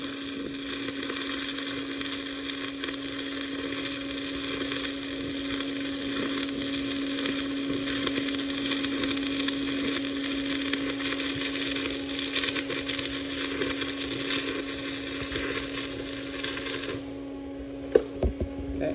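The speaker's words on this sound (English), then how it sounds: "Stay on the leading edge of the puddle. So once you get to the beginning, don't stop. Weld right over it." A steady SMAW arc from a 6010 electrode welding pipe, with a continuous crackling hiss and a constant hum that runs evenly for most of the clip. It stops abruptly near the end, leaving a few faint clicks.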